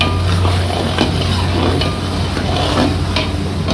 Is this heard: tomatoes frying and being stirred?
yes